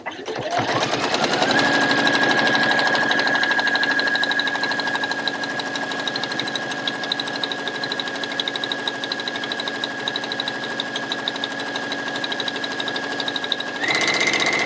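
A sewing machine top-stitches down the side of a bag handle, a loud, fast, even mechanical whir that runs almost without a break before it stops near the end.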